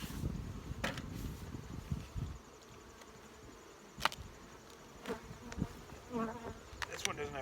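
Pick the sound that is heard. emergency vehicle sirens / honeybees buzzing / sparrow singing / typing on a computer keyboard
honeybees buzzing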